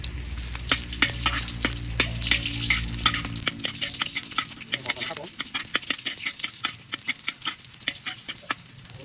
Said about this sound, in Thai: ครับน้ำมันร้อนแล้ว ใส่นี่ลงไปแล้วนะครับผม หอมแดง